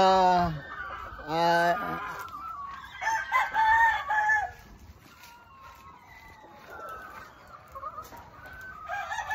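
Yellow-legged gamefowl rooster crows loudly at close range, followed by softer clucking and other fowl calls on a farm under cloudy skies.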